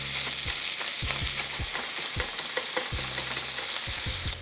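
Ground sausage browning in a pan: a continuous close sizzle broken by regular scraping thumps of a utensil stirring and breaking up the meat, roughly twice a second.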